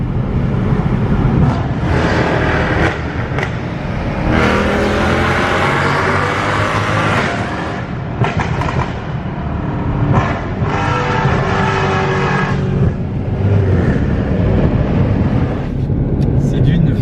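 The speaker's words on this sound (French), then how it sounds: "quand vous passez dans un tunnel avec cette voiture, c'est une obligation d'accélérer" A powerful sports car engine roars loud and close, revving hard through repeated gear changes, its sound echoing and booming as if inside a tunnel.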